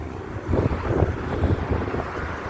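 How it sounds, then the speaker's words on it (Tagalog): Strong wind roars and buffets the microphone along a coastal road, a continuous loud rushing gust with no speech. "Sobrang hangin guys."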